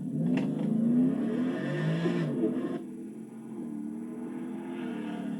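A supercharged 2025 Ford F-150 pickup with large six-piston brakes accelerates with a rising engine whine and rumble, then eases off into a lower, steadier drone after a few seconds.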